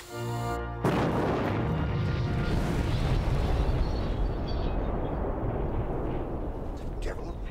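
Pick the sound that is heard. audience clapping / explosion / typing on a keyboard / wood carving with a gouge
explosion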